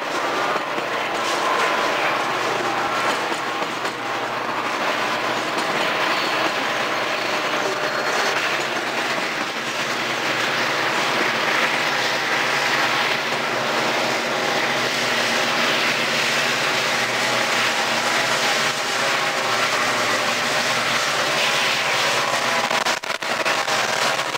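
At Tehachapi, a Southern Pacific and Santa Fe freight train rolls over Tunnel 9 with helper locomotives. Engines give a sustained, loud rumble over rhythmic wheel clatter that carries on steadily.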